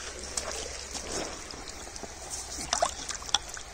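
Water trickles and splashes as a found object is rinsed in a creek on a hot day, soft dribbling with a few brighter drips and splashes near the end, no talking.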